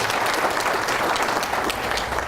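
Company staff at an end-of-year party clapping for themselves, a loud sustained burst of many hands close by, with crowd noise mixed in and no clear speech.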